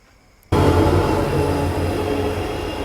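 Kuvempu Express pulling into Sagar railway station, a sudden loud rumble of the train that starts abruptly after a brief quiet and keeps up as a steady close roar.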